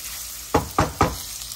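Spices and ginger sizzle in hot oil in a pan while a potato fry is cooked. A steady hiss runs underneath, broken by three short bursts of stirring or crackle in quick succession.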